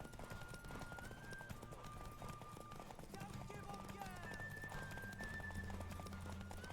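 A horse gallops in The Witcher 3 with steady clip-clop hoofbeats under continuous game music and tonal sounds, while a voice talks over it.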